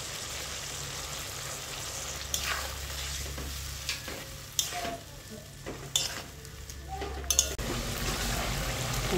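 Spices and onion sauté in a pan with a splash of water, a steady sizzle and bubbling beneath repeated clacks and scrapes of a stirring spoon against the pan.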